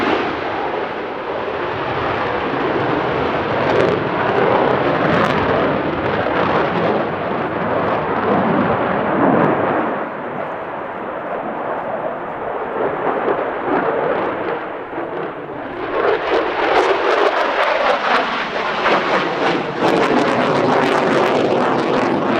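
An F-16 fighter jet in a YF-16 prototype tribute paint scheme flying a display at the Quinte International Airshow 2024, a loud, sustained roaring jet rumble that swells and shifts as it passes, heard alone without talk.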